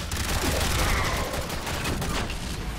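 Rapid gunfire rattles in the Warframe game, a dense continuous burst of shots played loud and close for the whole stretch.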